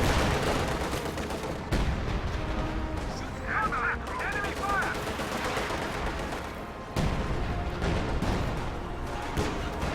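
Dense, continuous gunfire and artillery booms from a World War II strategy game battle involving an anti-tank gun, loud and layered throughout with sharp impact onsets and a brief high whine midway.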